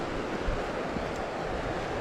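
Wind blowing across the microphone at a riverside, a continuous broad rumble with gusty buffeting that stays steady and fairly loud throughout.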